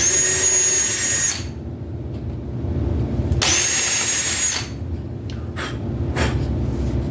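A power drill pre-drilling wood whirs in two short, high-pitched bursts, close and loud, with quieter rustling and handling noise between them.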